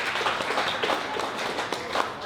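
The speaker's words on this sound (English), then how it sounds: "You should definitely applaud yourselves" A meeting audience applauds itself, a dense patter of many hands clapping together in a room, steady and moderately loud for the whole stretch, with no speech over it.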